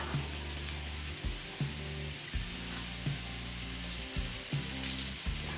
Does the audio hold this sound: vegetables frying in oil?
yes